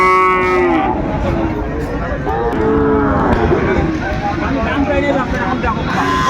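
A Sahiwal bull calf moos loudly several times amid a noisy crowd of people talking and milling about close by at a cattle market in Dinajpur.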